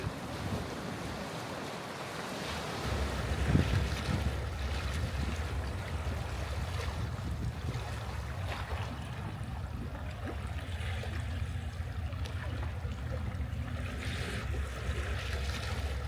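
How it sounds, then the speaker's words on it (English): Ocean waves wash steadily against the Dallas Road shore in Victoria, BC, under a constant rumble of wind buffeting the microphone, with no voices. "I'm going to try to leave in as much of the wave sound as I can"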